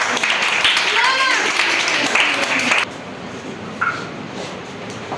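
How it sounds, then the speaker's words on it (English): A classroom group gives a short burst of applause for a student's chart, the clapping mixed with talking voices for a few seconds before it cuts off, leaving quieter speech. "Clapping for her, Sania."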